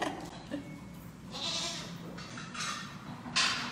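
A baby goat at a zoo bleats in a few short, thin cries over steady outdoor background noise, moderately close, with no talk heard.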